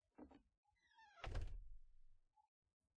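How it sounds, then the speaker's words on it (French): A door opening in the survival video game Rust: a short thunk, then a heavier sliding clatter and rumble lasting about a second, followed by a small click, with no talk. "là je peux ouvrir la porte."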